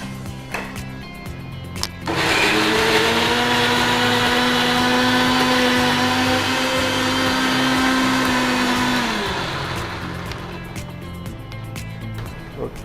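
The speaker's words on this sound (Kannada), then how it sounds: "ಆಲ್ಮೋಸ್ಟ್ ಮಿಕ್ಸಿ ಆಗಿದೆಲ್ಲ, ತುಳಸಿ ಮತ್ತು ನಮ್ಮ ನೆಲ್ಲಿಕಾಯಿ" An Indian mixer grinder whirs loudly and steadily for about seven seconds as it blends tulsi leaves and amla (Indian gooseberry), running down at the end, with brief speech before and after.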